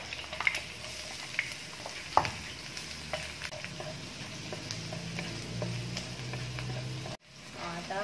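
Garlic sizzles in a pan while cooking igado, a steady close frying hiss with scattered stirring clicks and scrapes, briefly cutting out near the end.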